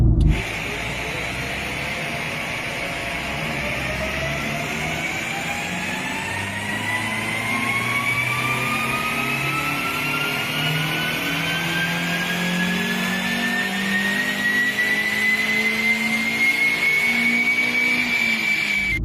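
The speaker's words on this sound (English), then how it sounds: "Somewhat fruity exhaust, as you shall hear shortly." A Honda CRX 1.6 engine with a five-speed manual revs steadily upward through the gears, rising pitch over a rough, throaty exhaust note, loud and close, with no talking.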